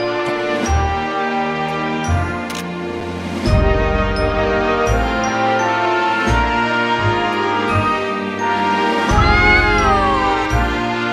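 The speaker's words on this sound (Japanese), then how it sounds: "だってサルファは普通の猫で" Cat meows from the video game Mana Khemia repeat several times over a background of game music, loud and close, with no talking.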